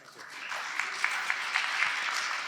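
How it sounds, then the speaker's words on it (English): Faint, steady audience applause at a plenary forum session on geopolitics, with a few sharper individual claps standing out briefly. "This is your applause."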